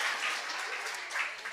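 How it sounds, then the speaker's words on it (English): Women's Day celebration crowd breaks into applause for a guest, a dense, continuous patter of many hands clapping nearby, brief and fairly loud with no talk over it. "Can we give a round of applause for that?"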